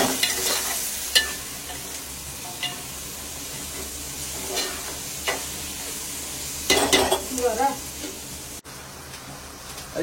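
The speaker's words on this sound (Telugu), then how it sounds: "అవి బాగా నూనెలో కొత్త కొత్తలాడుతూ ఉడుకుతాయి. ఇలాగా కొత్త కొత్తలాడుతూ ఉడుకుతాయి" Okra frying and sizzling steadily in hot oil for a fish pulusu, with bursts of crackle and occasional utensil stirring clinks, continuous and fairly close.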